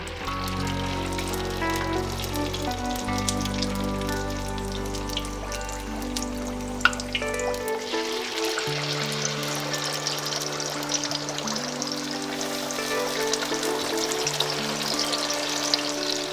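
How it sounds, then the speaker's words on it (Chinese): Battered pork slices dropped into hot oil in a wok, a steady close sizzling hiss with bubbling crackle throughout, a low hum fading out partway, no talking. "这时候我们可以一片一片的下入肉片"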